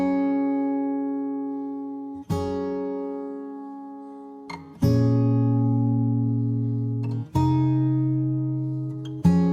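Double-tracked acoustic guitars ring out in sustained strummed chords, with fresh strums at roughly two-second intervals that each decay slowly, clear and up close with no voices.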